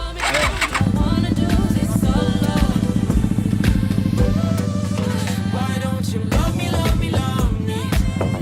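A Honda Scoopy automatic scooter engine runs at a steady idle, a loud, close, even mechanical hum throughout, with a few brief throttle changes.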